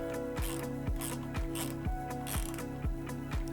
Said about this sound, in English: small little hand ratchet here. So we're gonna just tension this down.